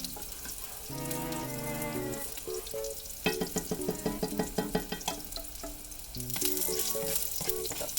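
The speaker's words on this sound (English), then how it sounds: "In a medium pan, we're going to cook the white scallions" White scallions sizzle and crackle in a medium pan, close and steady, with scraping and stirring clatter partway through.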